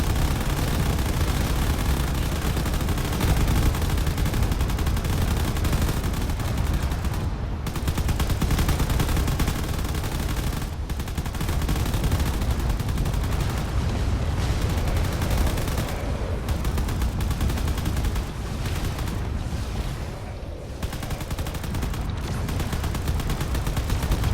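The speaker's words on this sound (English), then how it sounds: "That carrier is definitely just moving in to do as much damage as it can with all of its laser weaponry." Sustained weapon fire from the space battle game Drone Wars, a carrier unleashing its laser weaponry in dense, continuous rattling bursts with booming impacts, loud and unbroken for the whole stretch with no talk.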